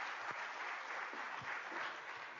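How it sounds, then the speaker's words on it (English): Audience applause at an academic conference plenary talk, a steady, dense wash of many hands clapping throughout, moderately distant with no speech over it. "Let's give a round of applause for Justin Spears, the man in the booth who drives this machine, drives this bus."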